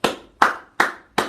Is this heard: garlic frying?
no